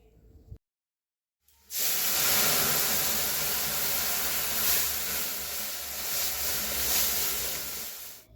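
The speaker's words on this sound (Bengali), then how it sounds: "ডাল ফোড়ন দেওয়ার জন্য শুকনো লঙ্কা কালো জিরা আর পেঁয়াজ ফোড়নে দিয়ে এবার ডালটা ফোড়ন দেবো" After a brief moment of silence, dried chilli, nigella seeds and onion hit hot oil to temper dal. A loud, steady hissing sizzle follows and holds close up to the end.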